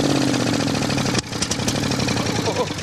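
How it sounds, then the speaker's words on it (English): A lawnmower engine running on biogas chugs steadily at a near, loud idle, its tone shifting abruptly partway through before it carries on running. "They start up the mower and get ready to switch over to biogas"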